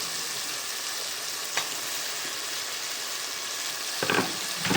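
Masala and tomatoes frying in a pan for a dry fish curry, a steady close sizzle throughout with a brief stir or scrape near the start and a louder burst of crackling toward the end.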